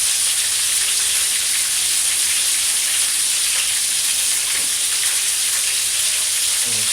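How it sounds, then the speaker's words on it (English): Onions sautéing in a frying pan, a loud, steady sizzle and crackling hiss that carries on without a break and with no talking. "I'm going to put some sauteed onions over top"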